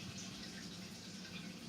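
Water pours from the spout of a gravity-fed water filter into a cup, a soft, steady trickle heard up close and quiet, with no talking.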